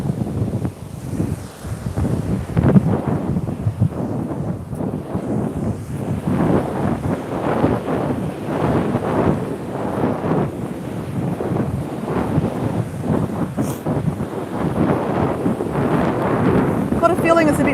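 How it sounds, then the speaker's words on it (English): Strong, steady wind buffets the microphone on a beach by the sea, a continuous loud roaring rumble with faint surf underneath, while a person talks throughout. "Got a feeling it's a bit windier this way, that I might be a bit annoying to listen to."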